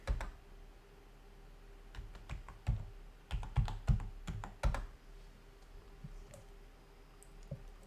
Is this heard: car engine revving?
no